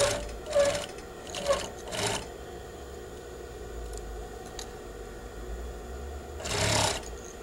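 Sewing machine stitching a bias trim strip along its grain lines, heard as several short bursts of whirring stitches, then a quiet pause and one more burst near the end, close and alone.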